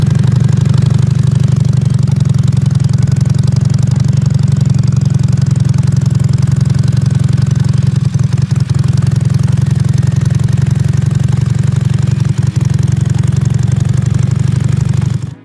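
A BMW R32 motorcycle's boxer twin engine idles steadily up close, a loud continuous low rumble with faint clatter that runs unbroken for the whole stretch without talk.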